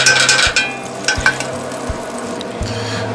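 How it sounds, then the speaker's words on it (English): A full stick of butter sizzling as it melts in a small old Griswold cast iron skillet, a steady soft fry under repeated scraping and stirring strokes that knock against the pan about once a second. "now that butter is melted completely"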